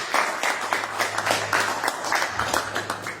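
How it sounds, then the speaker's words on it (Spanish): A church congregation applauds in praise of Jesus, a dense patter of many hands clapping steadily with a low hum underneath, moderately loud and sustained throughout. "Den un aplauso fuerte a Jesús."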